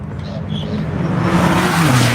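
A Shadow Buddies Porsche race car on the NCM track during Tire Rack One Lap of America approaches with a swelling engine roar that grows louder as it nears, while a commentator talks over it.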